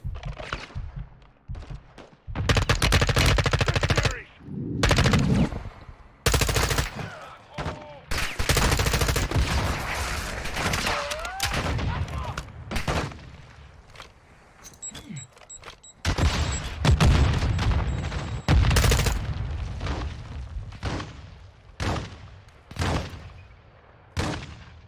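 Gunfire in the Call of Duty Modern Warfare 2 campaign's cartel mission: dense bursts of automatic fire and loud shots crackle almost nonstop, with heavy booms and brief lulls between volleys.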